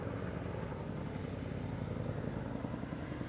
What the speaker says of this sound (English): That's a military helicopter right there.